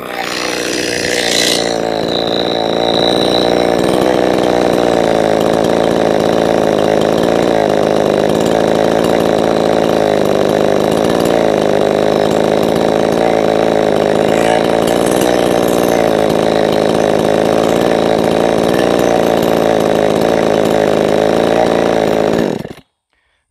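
A ported Neotec chainsaw engine runs loud and close, holding a steady buzzing idle for about twenty seconds after a brief blip, then cuts off abruptly.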